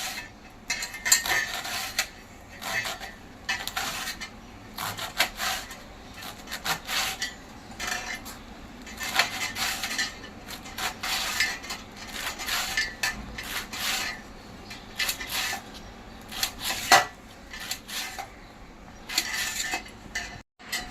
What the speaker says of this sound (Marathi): आतल्या देठांसकट चिरलं जात आहे